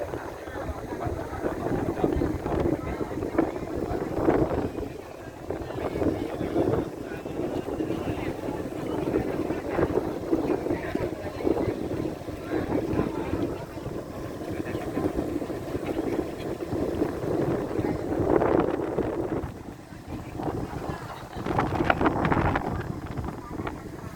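A yacht on an evening cruise at sea off Pattaya: a low, steady engine and water rumble runs throughout under gusts of wind buffeting the microphone, while people talk intermittently on board.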